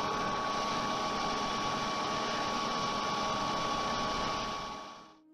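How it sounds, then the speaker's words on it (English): A Gigabyte CPU cooler fan spinning at its maximum 4000 rpm inside a Gigabyte 3D Aurora case gives a loud, steady broadband whoosh with a faint tonal whine, holding constant before dropping away at the end. "And at maximum the cooler sounds like a rocket, at 4000 rotations per minute"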